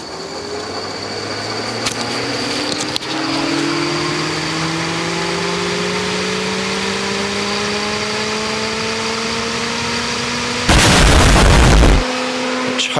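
A BMW's radiator cooling fan whirs steadily alongside the running engine, its pitch slowly climbing as it spins up. A loud burst of broadband noise near the end briefly covers it.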